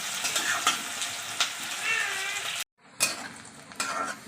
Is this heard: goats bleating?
no